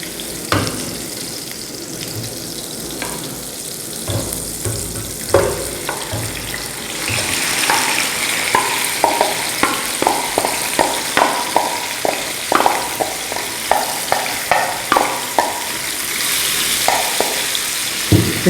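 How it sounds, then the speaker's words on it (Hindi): Marinated chicken pieces hitting hot oil in a frying pan, a loud, close sizzle that swells partway through and continues under a regular run of spatula scrapes and knocks, no talking. "इस तरीके से चिकन को इसमें फ्राई कर लेंगे।"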